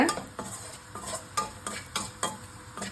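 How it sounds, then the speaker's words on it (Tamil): A utensil scrapes and stirs ginger and garlic sautéing in oil in a pan over a medium-low flame, with regular strokes about twice a second over a steady, close sizzle. "மீடியம் டு லோ ஃப்ளேம்லேயே அடுப்பை வச்சுட்டு இதை ஒரு 3லேருந்து 5 நிமிஷம் வரைக்கும் நல்லா வதக்கிக்கோங்க"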